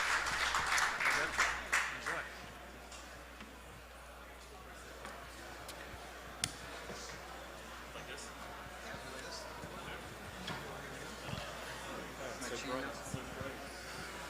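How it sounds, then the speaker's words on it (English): An audience at a Helium House 2022 tech event in NYC claps in a brief burst at the start, then the applause fades to faint scattered clapping, heard softly and at a distance with people talking. "let's give them all a round of applause"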